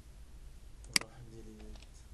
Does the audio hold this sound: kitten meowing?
no